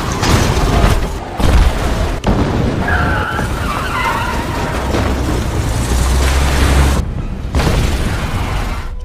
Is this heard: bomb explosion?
yes